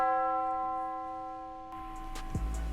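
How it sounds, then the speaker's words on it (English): Tubular bells from the KILLSJ drum kit ring out sustained, shimmering tones on the root note, then a beat with low hits and brighter percussive strikes comes in beneath them. "the last melodic element are these tubular bells right here"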